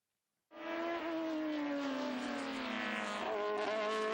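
Historic race cars at Estoril brake hard into the first corner, a loud engine note bursting in after a moment of silence and holding steady with gear changes and a slightly falling pitch, with no talk.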